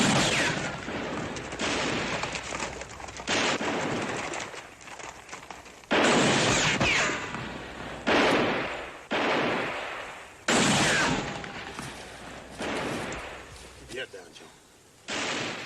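Repeated gunshots ring out in a Western shootout, loud close bursts recurring every second or two with echoing tails and short gaps between volleys.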